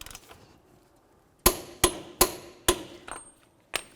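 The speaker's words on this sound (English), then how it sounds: "we're going to torque our axle nut first." A torque wrench tightens the front axle nut on a 2003-2008 Toyota Matrix with a manual transmission to 159 foot-pounds. After a quiet start, five sharp metallic clicks come in a steady series, close and distinct, followed by one more click.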